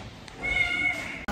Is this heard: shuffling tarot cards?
no